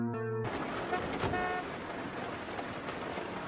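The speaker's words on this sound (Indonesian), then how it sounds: "mendengar suara klakson dari dalam jurang" A car horn sounding from down in a ravine, a short loud steady toot at the start, then dying away into a dull rumbling wash of noise.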